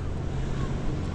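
Wind at the foot of Arthur's Seat in Edinburgh buffets the microphone in a steady, dense low roar that fills the short stretch without pause.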